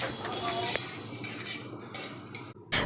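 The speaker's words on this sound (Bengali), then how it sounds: "পাঁচফোড়নটা দিয়ে আর সুন্দর করে এই ফোড়নটাকে ফ্রাই করে নেব 30 সেকেন্ডস মতো" Panch phoron tempering with bay leaf and dried chillies fries in a pan for a vegetarian spinach dish, giving a close, steady sizzle with clinks of a utensil against the pan, briefly under a voice.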